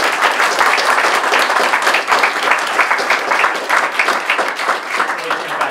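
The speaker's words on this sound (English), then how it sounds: "If we could all give him a round of applause." A round of applause from an audience at a technical panel presentation, loud and close, with dense clapping carrying steadily throughout and slight crowd murmur underneath.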